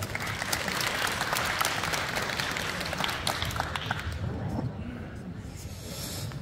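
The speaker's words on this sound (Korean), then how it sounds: "큰 박수로 환영해 주시기 바라겠습니다." Audience applause welcoming the mayor at the opening ceremony of the 2022 Pocheon national open table tennis tournament, steady dense clapping from a crowd that thins out toward the end.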